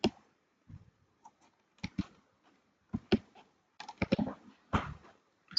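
Computer keyboard typing while writing a word in a document, sparse clusters of crisp close key clicks separated by short pauses, quiet between strokes, no speech.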